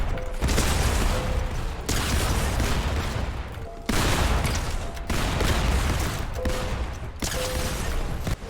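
Shotgun blasts go off in rapid succession on a Fortnite aim-training map, dense and loud game gunfire running almost without pause, with brief gaps between bursts.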